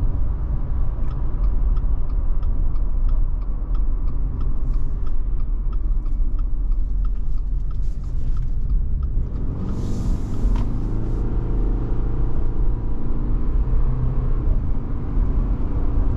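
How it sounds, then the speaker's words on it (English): Inside a 2023 Subaru Forester Wilderness on the move, a loud, steady rumble of tire and wind noise fills the cabin throughout, with a slight shift in the road roar partway through. "There's a bit of wind noise, there's a bit of tire noise, but nothing too crazy."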